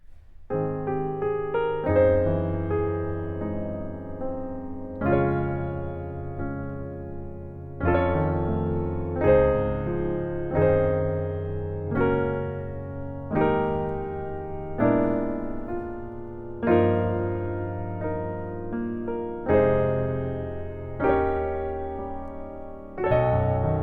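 Rich gospel-jazz piano chords unfold slowly, each voicing ringing out and decaying before the next, close and unaccompanied with no voices.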